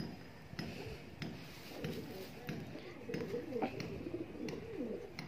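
Pigeons coo in low, soft, repeated rolling calls close by, with occasional clicks and rustles and a voice talking at times.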